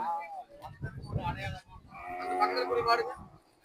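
Cattle at a livestock fair during a temple chariot festival give a close, fairly loud low moo in two parts, each about a second long.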